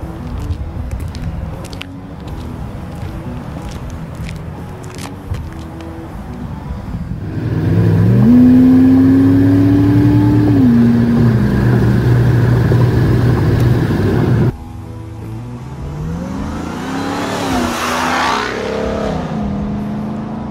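A 2021 Ram 1500 TRX pickup with a supercharged 6.2-liter V8 revs hard, a deep loud engine roar climbing, holding and dropping in pitch, then accelerating again with a sweeping pass, close up with no talking.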